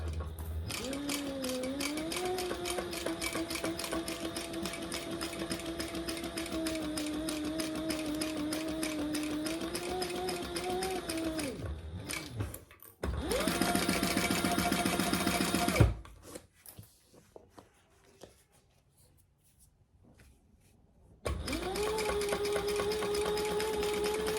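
A sewing machine stitches a bag seam in a long steady motor whir, stops briefly, then runs again in faster bursts, with a quiet gap before resuming; close and loud.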